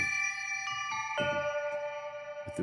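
Dry baby bell sample from the MegaMagic Bells n Winds library: a series of bright, sustained bell tones struck one after another, each ringing on with clean overtones and no reverb, close and clear with no talking.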